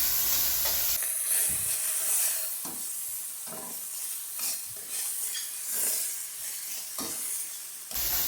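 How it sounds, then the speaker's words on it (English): Puttanesca sauce with anchovies sautéing in a pan gives a continuous close sizzle and hiss, with repeated stirring scrapes spread across the clip and no talking. "Okay, so we're going to saute this just for about a minute."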